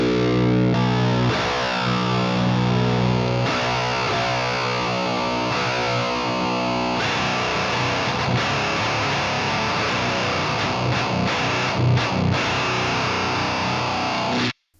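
Electric guitar run through a Boss DS-1 distortion pedal, aiming at a chainsaw-style HM-2 tone, plays a dense, saturated riff with sustained chords and chugging palm-muted passages, loud and continuous with no talk.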